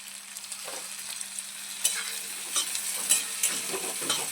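Chopped tomato is stirred into capsicum in a frying pan, with soft scraping strokes over a light sizzle. The strokes are irregular and close, and no one speaks.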